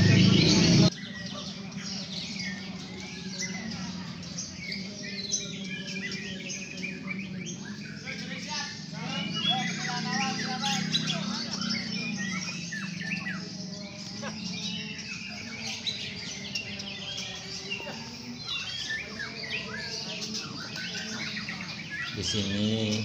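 White-rumped shamas (murai batu) sing at a bird song contest, pouring out continuous, varied chirps, whistles and trills. A soft murmur of background voices from the gathering runs beneath the song.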